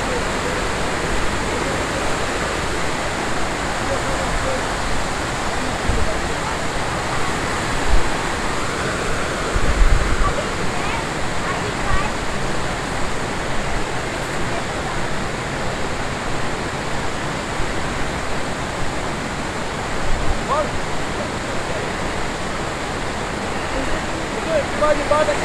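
A waterfall near Pires do Rio in Goiás, Brazil, gives a steady, loud, broadband rush of falling water with no break.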